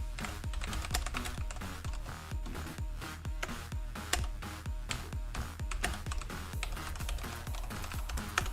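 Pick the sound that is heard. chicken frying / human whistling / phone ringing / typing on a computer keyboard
typing on a computer keyboard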